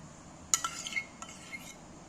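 Sour yogurt being added to flour and stirred with a utensil in a bowl, a few quiet clinks and scrapes, faint and close with a soft background hiss.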